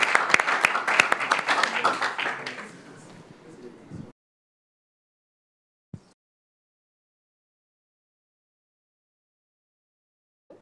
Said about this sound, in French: Est-ce qu'on va applaudir très fort pour notre ami?